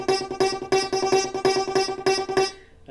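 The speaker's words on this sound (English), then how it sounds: "the sound of a inside of a piano." Muffled, resonant piano-string strikes repeat in a driving, steady rhythm, struck notes ringing briefly before fading at the end.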